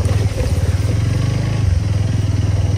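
Motorcycle riding through water, its engine thumping in a fast, even pulse close by, loud and steady for a few seconds with no voices.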